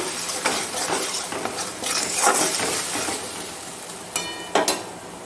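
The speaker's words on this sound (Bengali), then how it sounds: "এখন অ্যাড করব পেস্ট করে রাখা আদা, রসুন, পেঁয়াজ, সামান্য পরিমাণ জিরে এবং কাঁচা লঙ্কা। কষিয়ে নেব।" Ginger, garlic and onion paste with cumin and green chili being sautéed in a pan, heard as a soft continuous sizzle with scraping stirs and a couple of sharp clinks of a utensil against the pan near the end.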